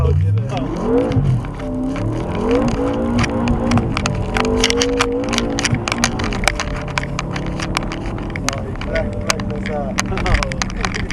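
A BMW M5 engine revs hard while drifting on a track, its pitch swinging up and down through the slides with sharp crackles, heard close from the cabin as people talk excitedly over it.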